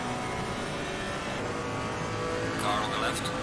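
Engines of GT3 race cars at Imola in Assetto Corsa Competizione, a steady loud drone as another car comes alongside on the left, with a driver talking over it.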